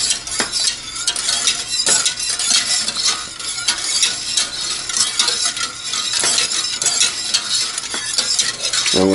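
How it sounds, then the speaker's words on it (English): Dipping sauce for chicken or fries heating in a pan, stirred continuously with a utensil clinking and scraping against the metal in a busy, steady rhythm over a soft bubbling sizzle. "This is where it's important that you keep stirring."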